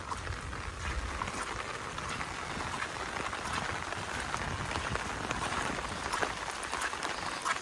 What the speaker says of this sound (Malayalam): മഴ ഇന്ന് ഫുള്ള് മഴയായിരിക്കും.